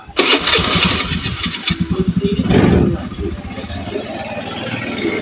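A Honda Beat scooter with heavy fuel consumption starts with a short cranking burst, catches and settles into a loud, fast, high-revving idle up close, while someone talks over it.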